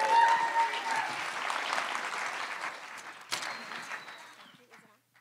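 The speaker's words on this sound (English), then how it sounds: "Give her a round of applause" Audience applause at an entrepreneur speaker series session, a fairly dense burst of clapping that starts strong and gradually thins and fades over about five seconds, with a sharper clap near the end and some voices mixed in.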